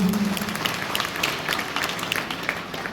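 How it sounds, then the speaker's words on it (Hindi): Audience applause at a Jat community award ceremony in India, a continuous wash of clapping from a sizable crowd, moderately loud and steady, with a brief voice at the very start. "आप सभी के सहयोग से तो जोरदार तालियां।"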